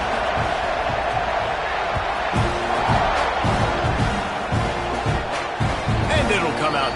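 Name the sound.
stadium crowd cheering at college football game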